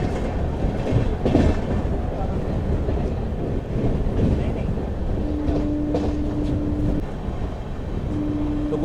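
A Delhi–Pathankot Superfast Express rolls along at speed with a steady rumbling roar of wheels on rail, rhythmic clatter and occasional thumps. A thin sustained whine surfaces partway through and returns near the end.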